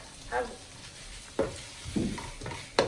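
Beef and green beans fry in a pan as they are stirred, giving a low sizzle broken by a few sharp scrapes and clatters of a spatula against the pan at irregular intervals.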